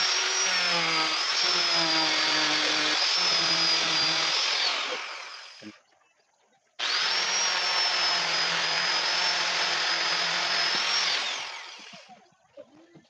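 A loud, steady whine of an angle grinder fitted with sandpaper smoothing the edges of a cut circle, running for several seconds, stopping briefly, then running again before winding down.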